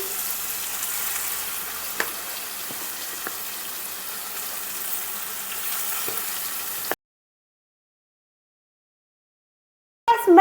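Chicken frying in oil left over from frying onions, a continuous close sizzle with a few faint clicks of stirring, then abrupt silence before a short clatter at the end.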